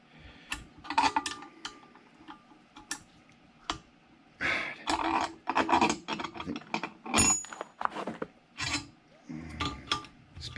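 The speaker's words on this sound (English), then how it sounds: "So you can see how it's just working the bearing in there" A swing arm bearing is worked into a Suzuki Bandit 1200 with bursts of rasping, scraping metal-on-metal friction, close and moderately loud, coming in uneven strokes separated by short pauses.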